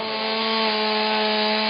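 Firefighters' chainsaws cutting building material for ventilation at a mattress outlet fire, a steady, loud, droning engine whine that holds without a break.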